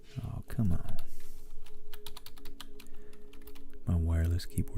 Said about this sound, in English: My wireless keyboard doesn't want to work.